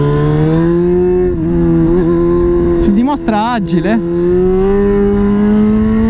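A Yamaha FZ6 S2 four-cylinder motorcycle with a Leovince exhaust holds a steady, loud engine tone while riding through quick direction changes, with a short burst of revving in the middle and someone talking over it.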